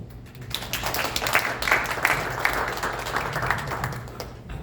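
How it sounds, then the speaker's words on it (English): Attendees at a Rotary Club gathering for International Women's Day applaud the club, a building round of hand clapping that swells after a quiet start and holds steady for several seconds, fairly close and lively. "So I think we should give a round of applause to this club."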